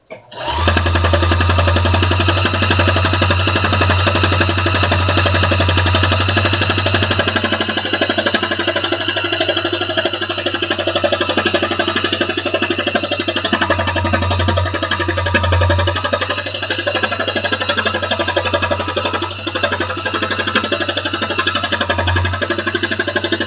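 A Baby Lock Embellisher 12 needle felting machine runs continuously, a loud, steady rapid mechanical hammering with a low motor hum beneath, close and unbroken for the whole stretch.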